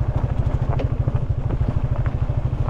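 An off-road motorcycle descends a steep rough downhill track, its engine a low rapid thumping pulse near the mic, with scattered rattles and clatter from the rough ground.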